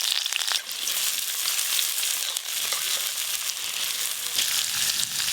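Chopped onion sizzles in hot mustard oil in a kadai over a village clay stove, a steady, close, bright frying hiss with small crackles throughout.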